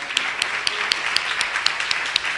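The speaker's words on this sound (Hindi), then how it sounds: "आइए यीशु के जलाल के लिए जोरदार तालियां।" Church congregation applauding loudly, dense clapping with sharper individual claps standing out in a regular rhythm, sustained for the whole stretch.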